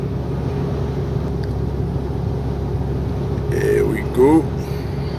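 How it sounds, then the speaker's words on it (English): An MAN TGS 27440 truck cruises on a freeway at 90, giving a steady low engine and road rumble throughout. Someone speaks briefly near the end over the drone. "Driving an MAN TGS 27440."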